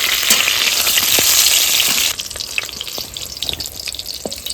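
Pointed gourds (potol) fry in hot oil with a loud, steady sizzle. Halfway through, the sizzle drops sharply to a quieter crackle broken by a few light clinks.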